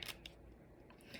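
Quiet crisp snips as a snake plant (Sansevieria trifasciata) leaf is cut into pieces, two or three short cutting sounds close by over a low background, with no talk.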